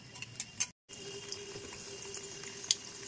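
A katori chaat bowl frying in oil over a low flame produces a steady soft bubbling sizzle, broken by a brief silent gap and a few faint clinks.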